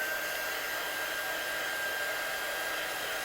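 Hair dryer blowing to dry watercolour paint on a stamped card, a loud steady rushing whoosh with a constant motor whine, unbroken from start to finish.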